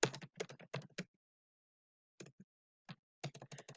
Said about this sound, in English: I think I'm typing well this morning.